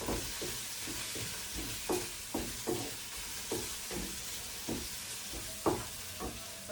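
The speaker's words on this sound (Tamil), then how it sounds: "எல்லாத்தையும் போட்டு வதக்கி எடுக்க போகிறேன். வதங்கட்டும்." Chayote curry ingredients with cumin sautéed in a pan, a rhythmic series of spatula scrapes and taps over a continuous low sizzle, close and fairly quiet.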